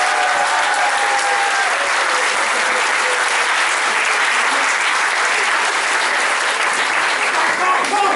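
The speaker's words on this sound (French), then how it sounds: "Une salle d'applaudissements pour tous les participants du concours." A crowd applauds participants of the 2014 adult cosplay contest in Cusset, a loud, continuous wash of clapping filling the hall from start to finish.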